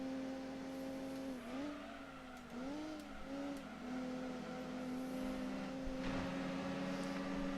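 A race car engine in Gran Turismo 2 holds a steady high drone, dipping and rising in pitch through a couple of gear changes before settling into a sustained whine at moderate level.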